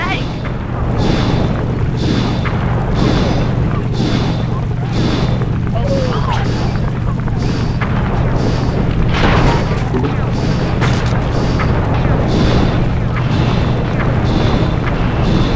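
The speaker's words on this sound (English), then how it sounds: "Keep on shelling her to stop that tank!" Loud, repeated booms from tank shelling in the Sly 2 video game pound at a steady pace over continuous rumbling, with character voices speaking in between.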